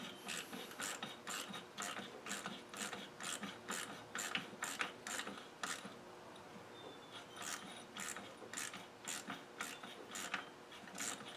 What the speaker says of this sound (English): Get a little ratchet and tighten that down.